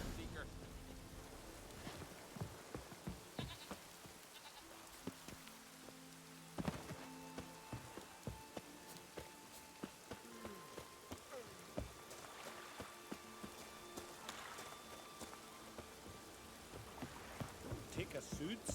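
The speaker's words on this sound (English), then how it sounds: "Take a soothsayer to know when it's raining." Rain patters continuously in The Witcher 3 game, a soft, quiet steady hiss with scattered drops, under faint game sounds and occasional brief tones.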